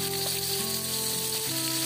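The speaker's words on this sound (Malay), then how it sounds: "Bila minyak dah panas, terus kita masukkan bahan tumbuk tadi." Pounded dried chili paste hits hot oil in a wok and sizzles steadily, a close, continuous frying hiss with no talk over it.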